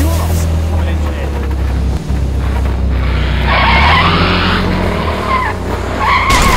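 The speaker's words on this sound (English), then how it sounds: "Did he just crash that truck?" A truck skids loudly with a sustained tire screech over a heavy engine rumble, followed by a harsh scraping burst, all close and loud with no talk over it.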